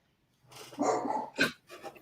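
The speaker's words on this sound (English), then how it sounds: "puppies are both going off." Two puppies barking indoors, a burst of several quick overlapping yaps followed by a sharper single bark and a softer final yelp, fairly close and clear with no talk over them.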